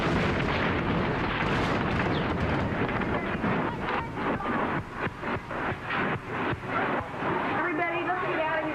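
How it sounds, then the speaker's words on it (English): Aftermath of a downtown explosion beside the Oklahoma Water Resources Board building: a dense, roaring wash of noise with wind buffeting and rumbling debris, and frantic voices shouting over it throughout. "We just had an explosion downtown."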